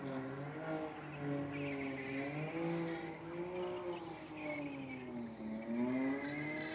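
A Subaru BRZ race car idles in the staging lanes at Sydney Dragway during a drag racing night. Its steady, fairly loud engine drone wavers gently in pitch throughout, with no talking.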